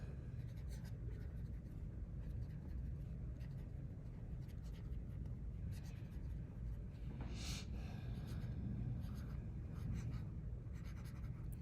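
A pen stylus scratches and glides across the screen of a reMarkable 2 tablet, faint soft strokes over a steady low background hum, with a brief brighter scratch partway through.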